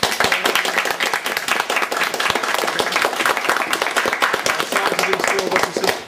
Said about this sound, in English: a big round of applause please for Lash LaRue